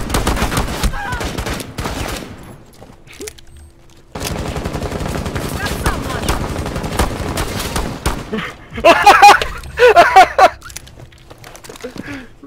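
Gunfire rings out in Rainbow Six Siege, with pistol and revolver shots mixed with rapid automatic bursts, loud and close. The heaviest clustered volleys come near the end, and players talk at times.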